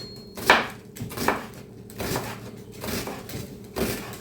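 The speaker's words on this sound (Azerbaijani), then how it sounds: "Soğanı da tez doğrayım." An onion is chopped with a knife on a board in a home kitchen. About five separate strikes come at uneven intervals, close and fairly quiet, with no talking.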